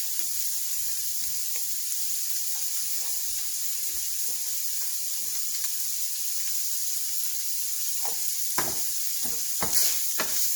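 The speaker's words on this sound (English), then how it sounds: "While the ground beef is cooking, we're going to season it with a ¼ teaspoon of Cajun seasoning" Ground beef with Cajun seasoning and a pinch of salt fries in a pan with a constant, close hiss of sizzling. Scattered scrapes and clinks from stirring become more frequent near the end. No one speaks.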